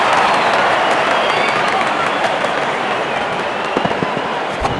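Crowd at a cricket Test match applauding a batter's half-century, a dense wash of clapping and cheering that swells then thins, with a few louder claps near the end.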